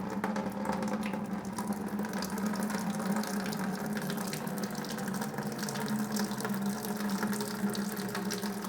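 Water drains out of a water bin in a steady, close gushing flow with a low pump-like hum underneath, unbroken for the whole stretch.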